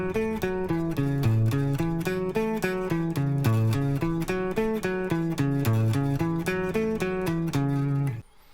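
Guitar playing a rock and roll practice riff with alternate down-up plectrum strokes, a steady stream of evenly picked notes in a repeating boogie pattern, clear and close, for about eight seconds.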